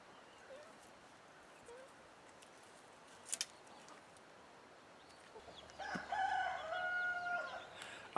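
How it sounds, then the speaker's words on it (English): Backyard chickens with a rooster crowing near the end, a loud drawn-out call after quiet stretches of faint clucking and rustling, no talking. "yep, putting the chickens to work."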